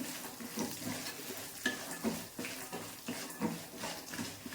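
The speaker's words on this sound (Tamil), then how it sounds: "வேர்க்கடல ஒரு ஐம்பது கிராம் ஃபுல்லாக வறுபடட்டும் கேஸ் வந்து சிம்மில் தான் இருக்குது" About fifty grams of peanuts are dry-roasted in a pan over a low gas flame, giving irregular scraping and stirring sounds with faint crackle, close up and with no talk.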